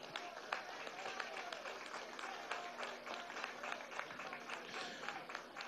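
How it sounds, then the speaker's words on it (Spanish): Audience applause at a Venezuelan government rally in Vargas state, steady dense clapping from a large crowd for about six seconds, with a faint voice or cheer mixed underneath. "Vamos a darle un aplauso desde aquí."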